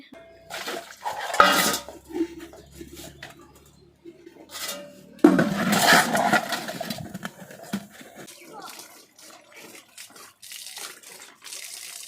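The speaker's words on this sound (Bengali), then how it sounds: "দেখো কত থালা বাসন মাজতে হবে এখন আমাকে" Plates and utensils scrubbed and washed under running water, with a tap gushing in bursts and metal dishes clinking and clattering against each other, close by, with a voice talking in between.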